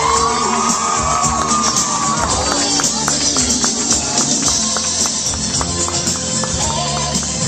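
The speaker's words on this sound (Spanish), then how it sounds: "ponernos de pie para recibir con este fuerte aplauso a nuestros anfitriones" A crowd at a quinceañera cheers and applauds loudly as the hosts are welcomed, a continuous mass of claps, shouts and whoops held at full volume throughout.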